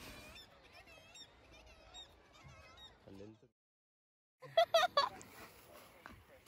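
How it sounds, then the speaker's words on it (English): Gulls at a clear-water seaside spot along the Northern Ireland coast call in a string of high, honking cries, then pause before a louder burst of nearby squawks. "Seagulls."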